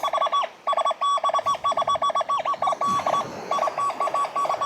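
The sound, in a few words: XP Deus II metal detector tone through speakers on the beach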